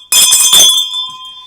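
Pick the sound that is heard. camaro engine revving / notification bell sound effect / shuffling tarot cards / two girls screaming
notification bell sound effect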